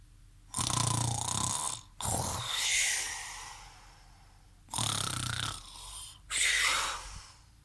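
Loud, rasping snores in two pairs of long inhale and exhale cycles, separated by brief silences, a voice imitating a wolf snoring.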